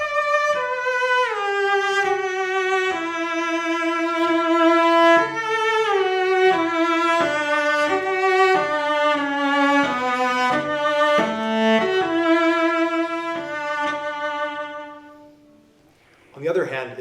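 Solo cello playing the second theme from the first movement of Dvorak's cello concerto, a singing melodic line of sustained, gliding notes that swells and then fades to near silence at the close.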